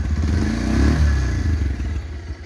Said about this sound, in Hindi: ये है इसका इंजन ऑन करने का जैसे ही आप देख सकते हैं